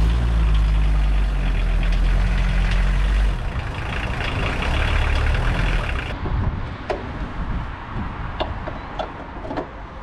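A VW T4 van's engine runs low and heavy as it drives up onto service ramps, the rumble dropping partway through before a few sharp clanks and knocks ring out near the end.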